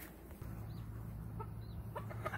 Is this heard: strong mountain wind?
no